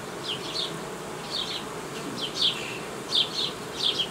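A steady buzz of honeybees at a young colony's hive during treatment, with several louder, closer passes rising and fading, no voices.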